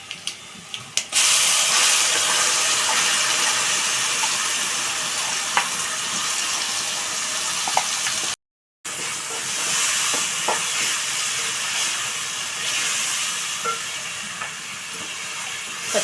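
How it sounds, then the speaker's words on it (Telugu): Onion and chili paste fries in oil in a pan, giving a steady, broad sizzling hiss that runs throughout, with a brief cut of silence partway and a few faint clicks. "ఇలా వేపుకోవాలండి పచ్చి వాసన పోయే వరకు."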